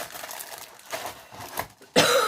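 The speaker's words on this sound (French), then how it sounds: "Je tousse" A short, sharp cough from a sick woman bursts out loudly near the end, after a stretch of quiet rustling and low background noise.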